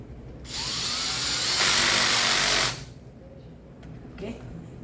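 A power drill or driver tightens screws on a circuit breaker during replacement of old, non-responsive breakers: one steady, loud mechanical whir of about two seconds, fairly close, with quieter room noise before and after.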